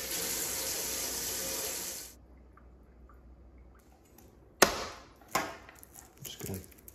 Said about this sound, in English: Wash our onions, jalapenos, tomatoes,